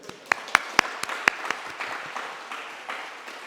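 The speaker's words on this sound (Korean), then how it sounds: "박수 쳐주세요." Small church congregation giving light applause, a handful of distinct sharp claps at first that soften into faint scattered clapping, with quiet room murmur.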